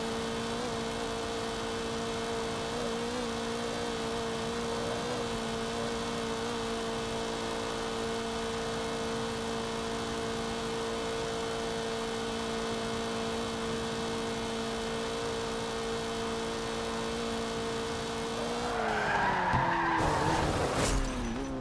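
Bentley race car taking a chicane on a racetrack at speed, a steady sustained engine drone that ends in a loud burst of tire squeal and skidding as it brakes into the turn.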